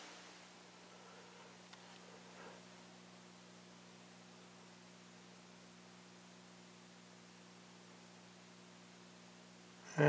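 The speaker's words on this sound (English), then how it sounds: "Variac's humming." A variac transformer feeding an old RCA Strato World radio gives off a steady, low electrical hum for about ten seconds under faint hiss, with a brief louder burst right at the end.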